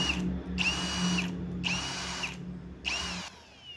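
A DCA ADJZ03-13 cordless hammer drill, freshly reassembled and run on battery, whirs in four short bursts of high-pitched motor whine, each spinning up and stopping, close and clear with a low hum underneath.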